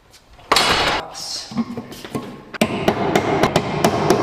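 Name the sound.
hammer tapping screws in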